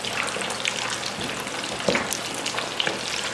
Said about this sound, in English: So 8 to 10 minutes, it will be nicely deep fried.